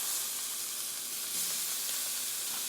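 Tomatoes sizzle in a hot pan with lamb chops and tomato paste, a steady close frying hiss throughout with no voices.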